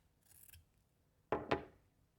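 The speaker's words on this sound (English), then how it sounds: "then you want to cut along that fold with the scissors nice and flat" Two crisp snips of fabric scissors cutting along a folded piece of cloth for a sewing stitch sampler, close and distinct, preceded by a soft brief rustle of fabric, otherwise quiet.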